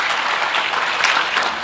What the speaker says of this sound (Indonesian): Tepuk tangan dong buat Tuhan.